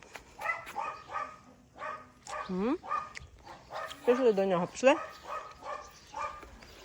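A dog barks and yips a few times, with short whimpering cries, while people talk nearby over it.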